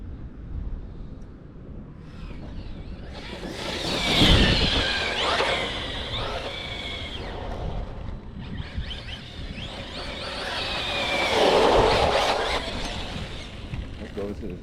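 A Redcat Valkyrie RC truck runs at full throttle outdoors, its high-pitched electric motor whine swelling twice as it passes close by, with wind noise and rolling tire rumble throughout.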